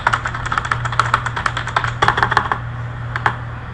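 Someone types on a computer keyboard, with a rapid, close stream of clicky keystrokes in uneven bursts over a steady low hum.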